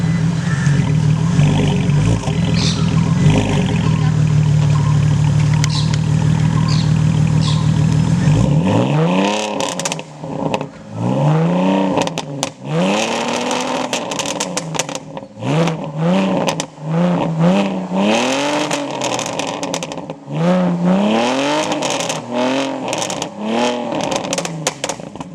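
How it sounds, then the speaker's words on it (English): A 2000s BMW Z4 E85 roadster with a straight-piped exhaust and Stage 2 tune idles with a deep, loud rumble, then revs repeatedly in sharp rising bursts, close and unaccompanied by talk. "the main attraction of the show, the straight piped exhaust system, which sounds lovely"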